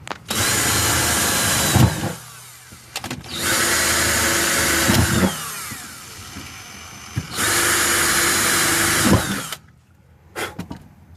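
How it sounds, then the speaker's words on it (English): Power drill bores through metal in three long bursts of a few seconds each, loud and close, with short pauses between and a brief final whir. "and drill all the way through."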